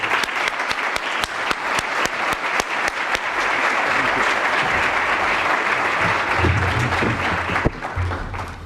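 Audience applause welcoming HUD Secretary Ben Carson at the CLPHA Housing Is Summit 2018 keynote, loud, dense clapping from a large crowd sustained for several seconds, fading slightly at the end.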